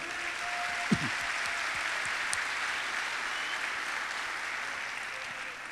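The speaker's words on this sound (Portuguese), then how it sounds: "Aplaudam o Senhor." Congregation in a church service applauds steadily throughout, a broad, even wash of clapping with a faint voice briefly audible near the start.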